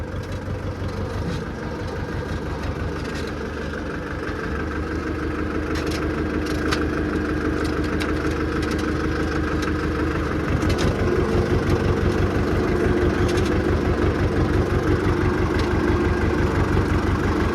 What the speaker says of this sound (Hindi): लो के तीसरे में लगा रखा है ट्रैक्टर